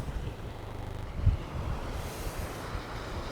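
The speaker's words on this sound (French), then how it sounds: "Le vent souffle fort, ça fait du bien." Strong outdoor wind buffets the microphone in a continuous, fairly quiet low roar with brief gusty thumps.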